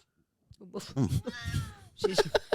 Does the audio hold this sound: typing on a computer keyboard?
no